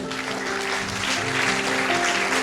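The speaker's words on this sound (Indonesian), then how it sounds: "Tepuk tangan untuk Tuhan Yesus." Clapping from a crowd of students at a Christian revival meeting held in a school, a brief steady wash of applause with a faint tonal hum underneath.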